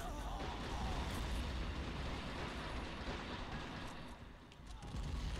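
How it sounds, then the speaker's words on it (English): Mortar fire in Men of War Assault Squad 2 during a multiplayer battle: a dense, continuous roar of booming blasts and artillery-like explosions, loud and rumbling throughout, dipping briefly before surging back. "How annoying a little wee mortar can be is just unbelievable."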